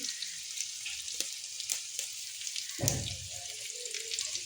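Onions frying in a pan give a steady soft sizzle throughout, with a brief louder burst of crackle as a few herb leaves are dropped into the hot oil.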